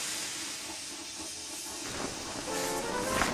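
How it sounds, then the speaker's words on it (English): A toy-style steam engine releases a burst of steam, a continuous close hiss that swells louder toward the end. "He was so scared, he let out a huge burst of steam"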